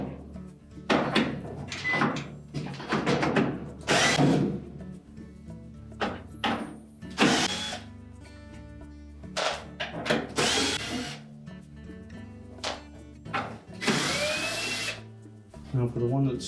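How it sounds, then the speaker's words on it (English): A nut driver backs out quarter-inch hex head screws around the perimeter of a Whirlpool dryer blower housing, with short repeated ratcheting and scraping bursts under intermittent talk. "Then we'll remove all of these 1/4 inch hex head screws around the perimeter."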